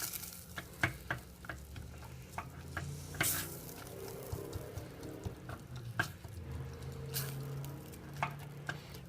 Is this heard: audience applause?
no